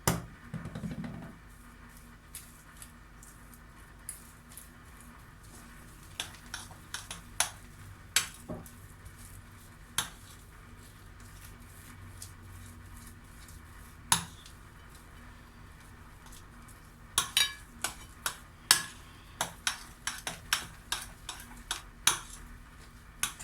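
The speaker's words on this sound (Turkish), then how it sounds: "Püre karıştırma işlemimiz tamamlandı." A utensil stirs mashed potato with butter, black pepper and salt in a bowl, making sparse clinks and scrapes against the dish that grow denser toward the end over a quiet background, with no talk.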